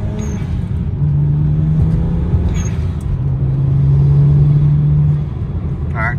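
A BMW 335i fitted with a 550i clutch accelerates at about quarter throttle through a quick second-to-third gear pull, a steady close-up engine drone inside the cabin with a brief dip and rise in pitch at the shift.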